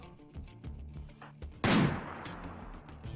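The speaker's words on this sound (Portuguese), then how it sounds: "Minigun, pode ir pra lá." A minigun fires in a Rimworld battle: after soft background sounds, a sudden loud burst of rapid gunfire erupts and trails off over a second or so.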